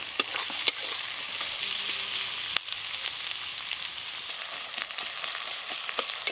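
Chopped onion sizzling and frying in hot oil in a pan where garlic was lightly fried first, a steady hiss with occasional stirring clicks, close and fairly loud throughout.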